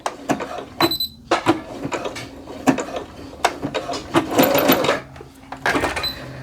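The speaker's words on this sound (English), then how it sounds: "I'm going to go ahead and backstitch at that first dot, even though I'm doing zigzag stitch" A home sewing machine runs zigzag stitches along a seam on jogger pants fabric, with a backstitch at the start. Bursts of rapid mechanical whirring are loud and close, and short pauses separate the runs.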